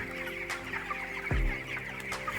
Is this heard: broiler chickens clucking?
yes